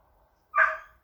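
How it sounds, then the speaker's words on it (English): A dog gives one short, sharp bark nearby, followed by the start of a second bark in an otherwise quiet room. "Again, sorry about the dog,"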